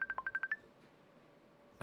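A laptop with an open Facebook tab sounds a quick series of about seven short electronic tones, then falls quiet before a brief final burst.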